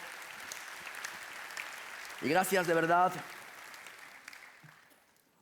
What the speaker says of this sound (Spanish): Un aplauso para los hermanos que hacen esa labor